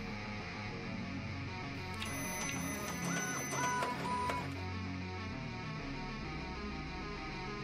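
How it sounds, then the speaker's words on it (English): A printer whirring and ticking in the Toy Tinker Simulator video game, a mechanical run with rhythmic clicks and a brief high-pitched whine in the middle, loud and close with no talk. "Yes, we need the printer."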